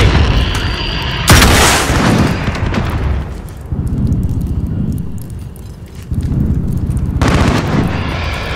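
Rockets fired in Call of Duty, loud booming launches and blasts with dense rumbling gunfire, a sharp burst early, then sustained heavy explosive roar and another surge near the end.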